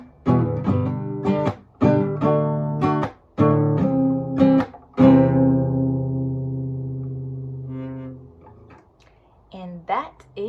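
Guitar chords strummed in a down, up, chuck, down pattern, bright strums broken by short muted chucks in a steady rhythm, ending on a long ringing chord that fades before a few final plucks.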